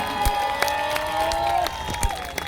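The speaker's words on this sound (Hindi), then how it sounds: "एक बार बहुत सारा शोर मचा दें, जोरदार तालियां बजा दें" Audience at a success meeting in Haldwani cheering and clapping, a steady crowd roar with scattered sharp claps and shouts, fairly loud and continuous throughout.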